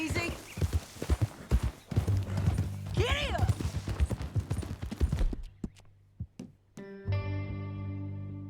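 Hooves clip-clop in quick rhythm as a horse gallops in Red Dead Redemption 2, mixed with a voice and game effects, then the hoofbeats thin out before a sustained tonal game sound takes over.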